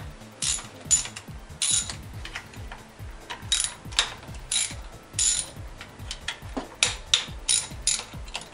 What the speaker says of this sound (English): What I'm going to be using is a 10mm socket, 3" extension, and a 3/8 ratchet.